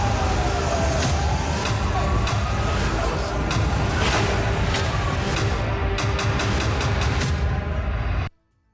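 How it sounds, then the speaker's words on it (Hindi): An air raid siren wails over Tel Aviv during a rocket attack, a loud, sustained rising and falling tone mixed with street and traffic noise. It stops abruptly near the end. "इस वक्त लगातार देखिए सायरन बज रहा है"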